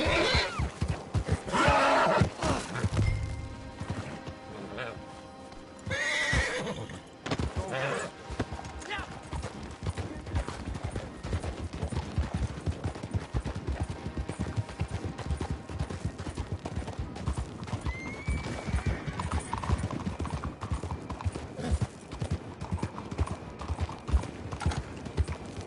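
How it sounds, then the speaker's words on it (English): Horse hooves clip-clop steadily over a long stretch with a brief whinny, mixed under talk and a dense, noisy backdrop with sharp bursts that suggest gunfire. "Get that horse hidden away, Clive, and ready to move out"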